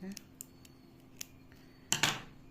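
Small scissors or cutters snip bonsai wire on a tree with several faint, sharp clicks, then two louder metallic snips close together near the end, in a quiet indoor room.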